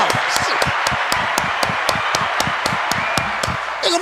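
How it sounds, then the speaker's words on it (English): A round of applause, steady sharp hand claps repeating at an even rhythm, close and fairly loud, from a small number of people. "Let's give him a round of applause."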